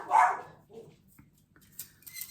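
Three small West Highland White Terriers bark indoors: one sharp, loud bark comes first, then fainter yips and scuffling follow farther off.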